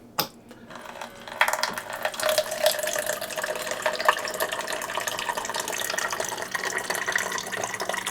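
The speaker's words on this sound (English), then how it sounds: "Once the rinse cycle is complete, we'll be ready to rock and roll" A Ninja Thirsti drink machine runs its rinse cycle, a steady stream of water flowing and splashing continuously from start to finish at moderate level, with no talking.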